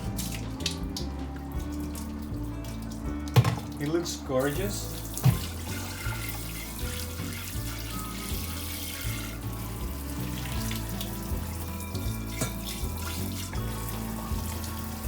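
Cooked quinoa being strained in a kitchen sink, with running water splashing and draining steadily throughout, overlaid by background music and someone briefly talking.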